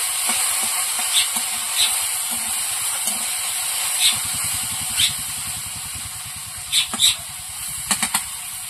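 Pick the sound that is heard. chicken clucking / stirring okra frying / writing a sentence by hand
stirring okra frying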